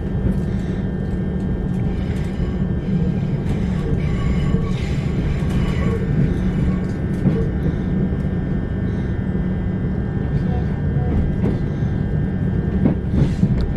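A train rumbles steadily past Wembley Yard, a loud continuous low roar of wheels and running gear with faint clatter, heard from on board for over thirteen seconds without talk.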